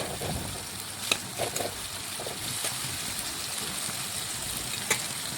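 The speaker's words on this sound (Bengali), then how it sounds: "পেঁয়াজটা নাড়াচাড়া করে ভালোভাবে ভেজে নিচ্ছি লাল লাল করে" Onion with a small bay leaf frying in oil in a pan while being stirred, a faint, steady sizzle with a few soft clinks and scrapes scattered through it, no voices.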